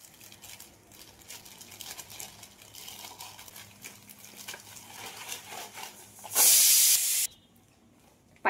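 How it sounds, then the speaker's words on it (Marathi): A pressure cooker whistle on a gas stove lets off a loud burst of hissing steam for about a second near the end, after quieter background clatter, close by. "5वी शिटी झालेली असा आणि मी आता गॅस बंद करतले आधी पहिलो"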